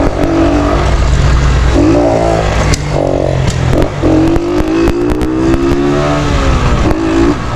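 A motorcycle engine revs hard and repeatedly, climbing and dropping in pitch through several throttle bursts, loud and close with clattery mechanical noise and no talk.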